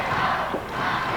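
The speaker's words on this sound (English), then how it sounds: "Hear that crowd chanting, rock and roll" Wrestling crowd at a 1995 Smoky Mountain Wrestling arena event chanting in unison, a dense, steady roar of many voices filling the hall without a break.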